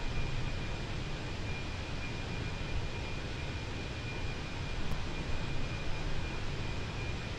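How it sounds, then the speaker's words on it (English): Eurowings A320-200 engines hum in Microsoft Flight Simulator 2024, a steady, moderate broadband roar with a faint high whine running unchanged throughout. "Kind of hear the roar from the engines a bit."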